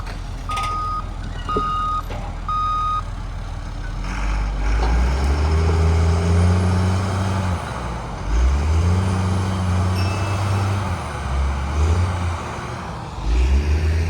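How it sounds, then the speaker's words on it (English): Reversing beeps chirp in a steady series from a loader and excavator working on a construction pad, followed by heavy diesel engines rumbling and revving in repeated surges, close by with no talk. "Loader, excavator, making money."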